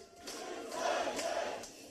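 Crowd cheering at a political rally for presidential candidate Yoon Suk-yeol, a dense roar of many voices that swells and holds steady for under two seconds, with no clear clapping standing out.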